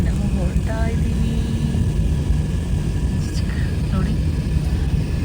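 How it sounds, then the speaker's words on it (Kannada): An airplane taking off and climbing on an international flight, its engines making a steady, loud broadband roar that fills the whole stretch while a voice talks over it. "ಇವಾಗ ನಮ್ಮ ಏರೋಪ್ಲೇನ್ ಮೇಲೆ ಹೋಗ್ತಾ ಇದೆ"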